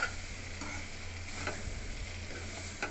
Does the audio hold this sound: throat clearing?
no